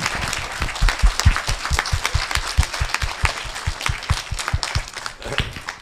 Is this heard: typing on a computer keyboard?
no